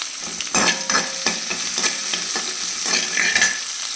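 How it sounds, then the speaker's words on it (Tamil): Shallots sautéing in a pan for cauliflower and egg poriyal, a loud close sizzle with a brisk rhythm of spatula scrapes and stirs, no voices. "அந்த சின்ன வெங்காயம் போட்டு நம்ம நல்லா வதக்கிக்கணும்"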